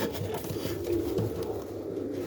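Domestic pigeons cooing in a loft during breeding season, a soft, low, continuous murmur close by with no talking.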